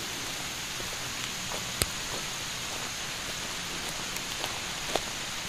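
Rain falling steadily in a mountain garden, an even hiss with occasional louder drip clicks, close and continuous with no voices.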